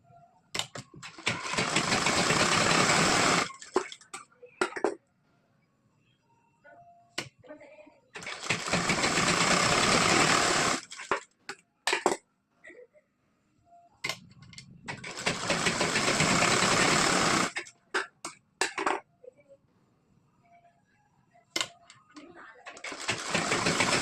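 Close, loud runs of a sewing machine stitching the tucks of a four-tuck blouse come in three bursts of a few seconds each, with brief clicks and fabric handling between them.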